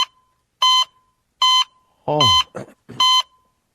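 A clock beeps in evenly spaced electronic bursts, four loud, clear tones about three-quarters of a second apart, with a brief exclamation from a man between them in a radio studio.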